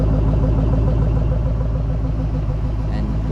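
A 2005–2009 Ford Mustang GT with a JLT Series 3 cold air intake sits running, its engine and exhaust giving a loud, steady low rumble close by with no clear revs.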